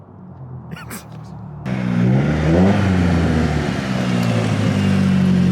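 A car drives around a parking lot, its engine rising to a steady, loud hum after a quiet start while people talk over it.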